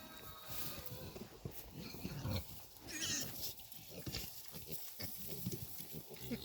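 Pigs and piglets, the piglets on their first day out, on a farm give repeated close grunts and snuffling noises amid rustling and movement.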